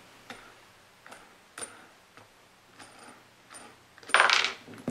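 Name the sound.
wing nut being unscrewed and removed from bolt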